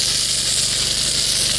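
Pressure washer pump spraying water at 150 PSI, a steady, loud broadband hiss of the jet running unbroken throughout with a faint low pump hum beneath.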